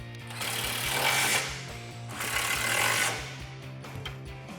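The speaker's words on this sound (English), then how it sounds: "Grab your 13mm socket, and again, I like to use the extension to go over the rear sway bar, and we're gonna tighten them down." A 13mm socket on an extension turns exhaust bolts over the rear sway bar of a 2018-2020 Mustang GT with a Borla S-Type cat-back exhaust, giving two bursts of fast clicking ratchet sound over a steady low hum.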